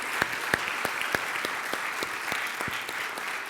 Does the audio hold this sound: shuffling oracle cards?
no